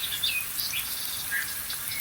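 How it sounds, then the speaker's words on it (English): Bird calls and insect-like chirps played from a TV in a kitchen where potato chips are being made, a steady layer of high tweets and trills throughout with no speech. "They love it, the birds."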